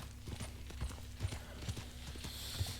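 Horse hooves clip-clopping in Red Dead Redemption 2, a steady run of close, distinct hoof strikes at a riding pace over a low in-game ambient hum.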